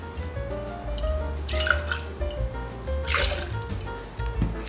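Canadian Ungava gin pours from a bottle into a cocktail shaker for a gimlet, making a steady, close liquid trickle with small splashes and glugs that go on for several seconds.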